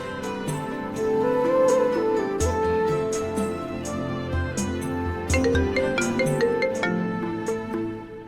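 A melodic ringtone plays continuously, a repeating tune of bright electronic notes over a soft rhythmic backing, fairly loud and with no voices.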